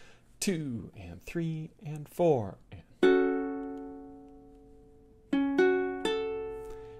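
Ukulele plays measure 12 of a song: a spoken count-in, then one long ringing chord followed by a few quicker strums, close and clear.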